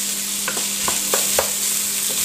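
Potatoes and vegetables for minestrone cook in a pot with a loud, continuous sizzle and hiss. A few light scrapes of a spoon stirring sound through it, and no one talks.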